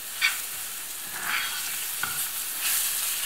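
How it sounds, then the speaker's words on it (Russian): Flour sizzling as it is stirred and fried with onion in a pan, a continuous crackling hiss with a few soft spoon scrapes, close and alone. "И сейчас будем помешивать и обжаривать нашу муку вместе"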